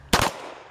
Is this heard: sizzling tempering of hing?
no